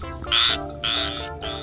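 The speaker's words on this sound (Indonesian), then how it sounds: "Wah, keren sekali kodoknya." A yellow frog croaks in repeated bursts, three loud, close calls in a steady rhythm with nothing else sounding.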